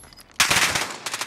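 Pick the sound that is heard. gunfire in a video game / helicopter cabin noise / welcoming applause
gunfire in a video game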